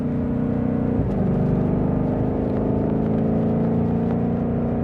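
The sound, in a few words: Lethal Performance 2020 Shelby GT500 exhaust pop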